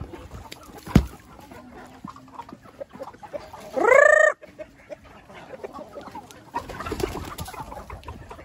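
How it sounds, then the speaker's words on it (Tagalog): Chickens cluck and murmur nearby in a laying house, with one louder drawn-out squawk midway and scattered rustling and bumps around them. "Dahil sobrang dami ng ating mga manok."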